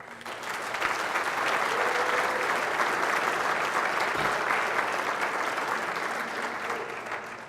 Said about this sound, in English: if all I have to say is should be applauded and you applaud, that's pretty good